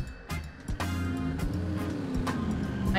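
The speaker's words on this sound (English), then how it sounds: "I hear another car." A steady, low engine drone runs throughout with a few sharp clicks and thumps on top, a delivery car driving in the game Totally Reliable Delivery Service.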